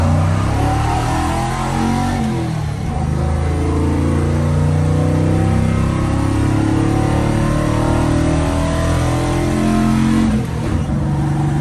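A 1967-1972 Chevrolet C10 pickup, its timing advanced to 28 and its carburetor too small for the engine, revs loudly and close, a deep sustained roar that swells and holds without pause.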